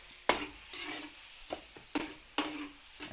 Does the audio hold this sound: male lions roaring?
no